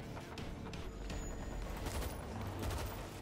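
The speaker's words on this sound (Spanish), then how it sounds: "Se escuchan disparos" Fairly distant World War Z gunfire, a dense crackle of overlapping shots holding steady throughout, with no talking.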